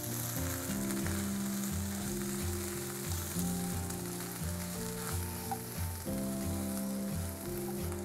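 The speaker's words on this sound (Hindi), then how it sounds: "इन सबको अच्छे से मिक्स करती हूँ।" Masala gravy for restaurant-style chicken tikka masala is stirred and fried in a pan with salt, giving a continuous close sizzle with soft stirring under a steady background.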